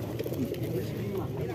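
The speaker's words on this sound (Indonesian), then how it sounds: "kita coba berjalan ya sambil lihat-lihat merpati" Pigeons coo at a busy pigeon market in Tamanan, Indonesia, with soft, repeated calls blending into a murmur of crowd noise.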